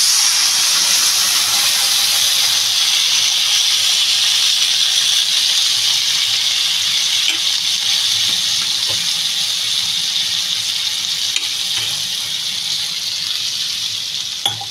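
Water poured into a hot pan of lau shaak and kochu loti curry sets off a loud, steady hiss of steam and sizzling that holds for the whole stretch and fades slightly near the end.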